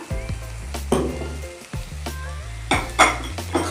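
Yogurt stirred quickly into sizzling bhindi masala over a low flame: a loud close sizzle with repeated stirring scrapes, under background music with low rhythmic notes.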